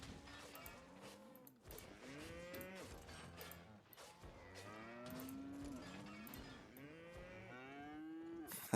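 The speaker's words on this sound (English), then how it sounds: "Nothing but the sounds of cows moving." Cattle in a video game farm area low and moo repeatedly, long drawn-out calls overlapping one another in steady succession over a continuous ambient game backdrop.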